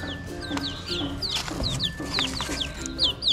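Jungle fowl chicks freshly hatched in a forest nest, with repeated sharp high peeps and soft clucking calls in quick irregular bursts, fairly loud and close, no talk.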